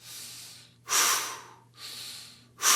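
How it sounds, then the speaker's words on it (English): Forceful exhales during a breathing exercise, two long airy bursts alternating with softer inhales in a steady rhythm, close and clear with no talking. "A little bit stronger. Focus on that exhale."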